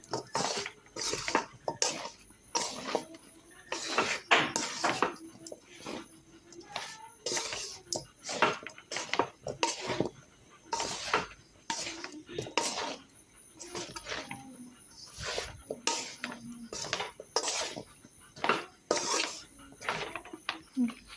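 Amla pickle with salt and turmeric is stirred slowly in a pan, producing repeated close metallic scrapes, clinks and knocks of a spoon against the pan in an uneven rhythm.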